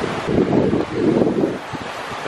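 Steady wind gusts buffet the microphone outdoors, a broad rushing roar swelling in two strong surges, then easing into lighter, choppier buffeting.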